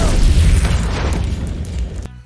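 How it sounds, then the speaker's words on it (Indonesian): A loud, deep explosion boom on Mars in the film The Martian, with a rumbling low-end roar that sustains for about two seconds, then cuts off abruptly. "Percobaan pertama sempat gagal dan meledak."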